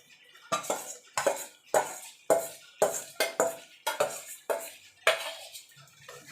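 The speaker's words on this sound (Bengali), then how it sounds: "এখানে যে চিকেনটা মেখে রেখেছিলাম সেটা এবার দিয়ে দেবো" Marinated chicken goes into a pan for aloo chicken kosha and is stirred with spices: a steady series of about ten sharp metal-spoon clinks and scrapes against the pan, close and fairly loud, with no talking.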